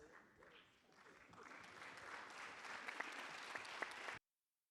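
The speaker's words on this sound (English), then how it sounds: "can I also have a round of applause for our panels?" Audience applause for the panels at a UNESCO Transforming Education pre-summit ministerial session, a broad wash of clapping that builds steadily and holds until it cuts off abruptly.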